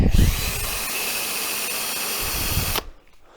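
A rotary power tool cleans a heavily pitted lawnmower solenoid contact held in a vise, running as a loud continuous whine with grinding contact noise, then spinning down abruptly near the end.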